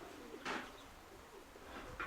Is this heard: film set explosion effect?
no